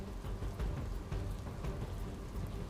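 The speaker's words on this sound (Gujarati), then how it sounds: "સમગ્ર અમદાવાદ શહેરમાં હાલ વરસાદ વરસવાનું શરૂ થયું છે" Monsoon rain pours over Ahmedabad city, a soft, even hiss of drops on streets and surfaces, fairly faint and continuous with no talking.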